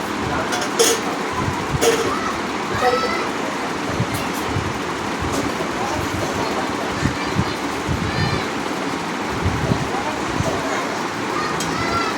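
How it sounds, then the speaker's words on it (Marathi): A house cat meows a few times for milk, its short, fairly clear calls rising over a busy, continuous kitchen background. "मांजर पण आमची दूध मागते"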